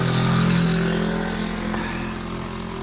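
A motor scooter engine putters with a steady, rough low drone, fairly close and slowly fading slightly, with no talk.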